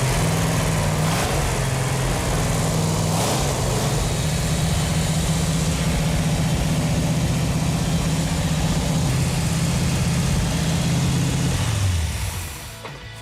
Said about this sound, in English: It feels really good to hear that engine run.